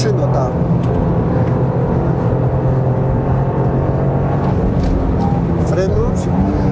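A 2024 Toyota GR Yaris engine pulling hard on a race circuit, a loud continuous roar with wind noise inside the car, while someone talks over it.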